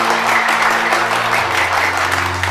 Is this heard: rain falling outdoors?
no